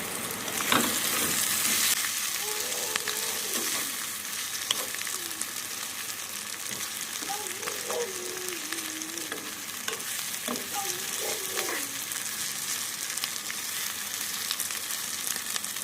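Bandi gurija vegetable curry frying in a pan, a continuous close sizzle with periodic stirring scrapes and clatter, no speech.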